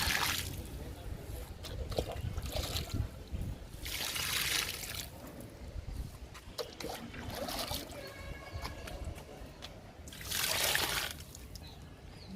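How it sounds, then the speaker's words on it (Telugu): Garden plants are watered outdoors, with water splashing onto a lemon plant in two short, louder gushes between softer trickling. "పూల మొక్కలకి వాటర్ ఇచ్చేద్దాము"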